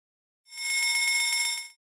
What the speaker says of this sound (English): What's that sound? It's the fire alarm.